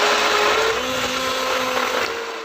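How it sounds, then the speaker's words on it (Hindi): A mixer grinder beating eggs and sugar together, a loud steady motor whine that holds evenly and eases slightly toward the end, no speech. "अंडे बीट होते होते हमारी चीनी भी साथ ही ग्राइंड हो जाएगी"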